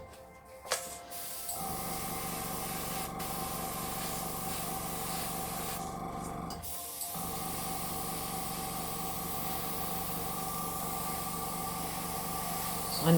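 An air compressor runs steadily throughout as fluid art paint is sprayed, a constant loud hum and hiss with a brief dropout near the start and another short gap midway.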